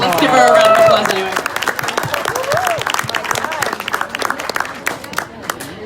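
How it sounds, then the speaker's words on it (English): An audience at a professional conference breaks into loud applause that peaks at the start and then thins into scattered, fading claps, with a voice talking over the dying clapping. "Let's give her a round of applause anyway."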